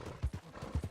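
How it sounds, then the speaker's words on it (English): Horse hooves clip-clop at a steady riding pace in the open world of Red Dead Redemption 2, a run of close, even, thudding beats with no talking. "I'm going to ride my horse back to town, back to camp, park the horse there"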